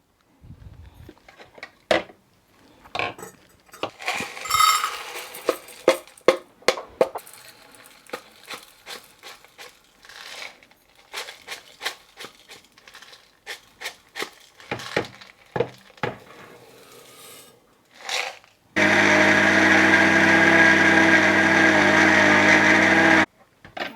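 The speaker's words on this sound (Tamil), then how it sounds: "முதல்ல இந்த பனங்கற்கண்டை இந்த மிக்சி ஜாரில் போட்டு அடிக்கணும்" Palm sugar candy is crushed in a mixie jar, loose clinks and rattles of pieces being handled, then a loud, steady motor roar of the grinder running for about five seconds.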